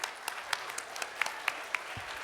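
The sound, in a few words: audience applause for the students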